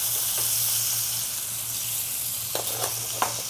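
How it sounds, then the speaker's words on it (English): Parmesan-crusted fish sautés in a pan with a steady broadband sizzle, close and fairly loud, with a low hum underneath and a few soft scraping taps near the end. "Like that, a little saute."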